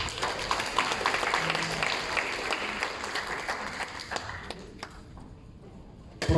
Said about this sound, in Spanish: Aplausos, jóvenes.